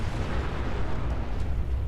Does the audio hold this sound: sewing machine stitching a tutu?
no